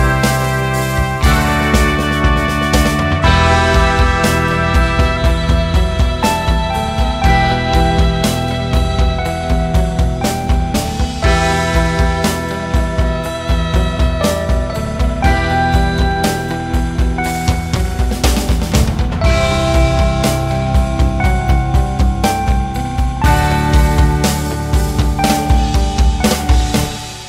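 Sampled guitars from the E Instruments Desolate Guitars library play in a composed piece with bass and muted guitar parts, forming a loud, dense, continuous musical texture throughout.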